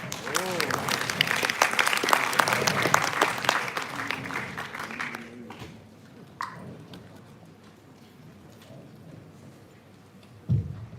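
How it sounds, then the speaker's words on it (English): Conference audience applauds a speaker being welcomed at a financial trading conference, a dense, loud burst of clapping for about five seconds, then dying away into room quiet with a few faint knocks and a brief voice. "please put your hands together for Mr. Gemma Merdeka Duyanti"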